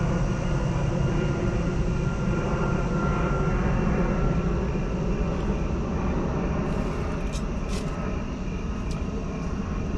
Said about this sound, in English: so we're in an airport corridor, I should say, so these planes are annoying